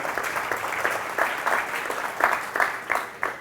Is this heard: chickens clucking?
no